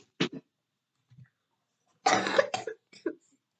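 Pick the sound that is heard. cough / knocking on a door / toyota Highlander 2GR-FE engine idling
cough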